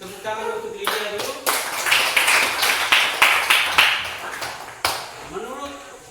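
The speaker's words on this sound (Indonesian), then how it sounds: "Baik, kita beri tepuk tangan untuk Lydia dulu." Classmates in a classroom give a student a round of applause, sharp hand claps in several bursts over a few seconds, with some voices under the clapping.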